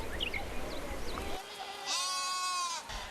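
Sheep and goats bleat in farm pens, several calls overlapping near and at middle distance, ending with one long, loud wavering bleat up close, over a steady outdoor hum.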